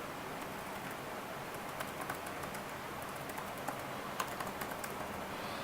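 Keyboard keys tapped out a Rails generate command in a terminal, light irregular clicks close by over a steady hiss, no talking.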